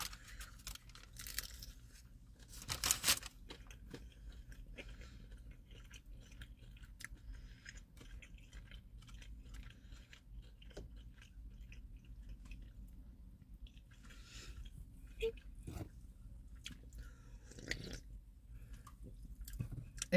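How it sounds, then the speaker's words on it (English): Someone bites and chews a Taco Bell cantina crispy chicken taco up close, with a few sharp crunchy bites followed by quieter wet chewing and squishing over a low background hum. "If you don't like the sound of eating"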